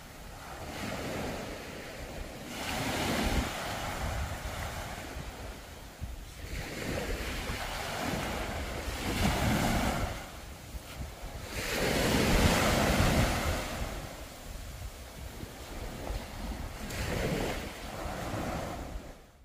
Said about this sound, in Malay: arus dan angin agak kuat lah.